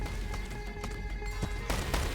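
Game horses in World War Selection clip-clop and whinny in a strategy battle, rhythmic hoofbeats with repeated neighs over a steady low background of game ambience.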